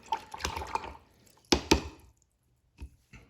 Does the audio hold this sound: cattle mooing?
no